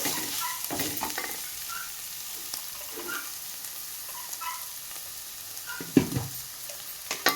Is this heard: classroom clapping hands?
no